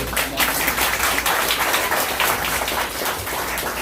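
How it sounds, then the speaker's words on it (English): A crowd at a Glenn Youngkin campaign event for Virginia governor breaks into loud, sustained applause, with many hands clapping in a thick, even roar and no one speaking over it. "please give him a round of applause"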